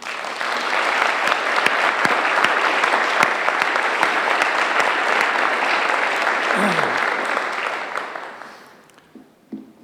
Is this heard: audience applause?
yes